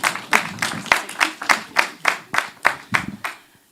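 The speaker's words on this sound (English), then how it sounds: "Round of applause." Brief round of audience applause at a tech showcase stage event, a small group clapping in distinct, fairly regular claps near the microphone, fading out after about three and a half seconds.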